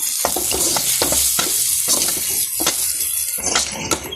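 Mutton suvarotti sizzles loudly in a hot pan while a spatula stirs and scrapes it in repeated sharp strokes over a constant frying hiss.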